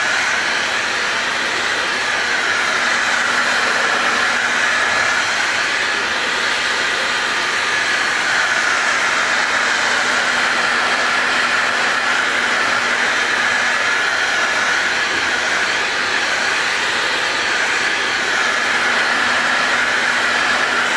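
A hair dryer blows hot air onto the stainless steel door sill trim of a Dacia Duster, a loud, steady whooshing roar that continues unbroken for the whole stretch with no talking.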